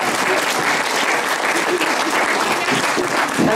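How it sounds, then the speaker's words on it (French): An audience bursts into steady, dense applause at a French comedy show, a continuous wash of many hands clapping throughout, with a few voices audible underneath. "On peut l'applaudir, oui."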